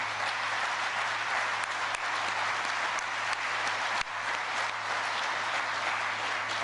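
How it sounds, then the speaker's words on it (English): A crowd at a factory groundbreaking ceremony applauds steadily, dense even clapping held throughout at a fairly loud level with a faint low hum beneath. "So give yourselves a round of applause."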